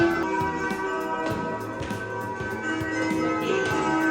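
A school bell rings with a steady, sustained tone across the whole stretch, set against the busy murmur of a crowded campus at a university in China.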